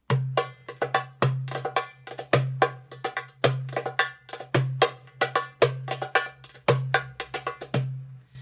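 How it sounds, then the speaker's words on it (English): Doumbek (darbuka) hand drum played in a lively rhythm, deep booming bass strokes alternating with sharp, ringing slaps and quick taps, loud and close with no voices. "this is a doumbek or darbuka, and this is a Persian instrument"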